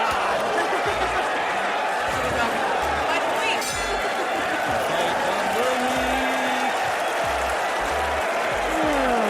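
Crowd applause plays as a sound effect, a dense steady wash of clapping and cheering held at a loud, even level with scattered low thumps underneath.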